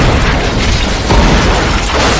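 A loud, roaring crash of a plane hitting the ground in a film, with a dense rumbling blast that fills the whole stretch, like a heavy impact and explosion continuing without pause.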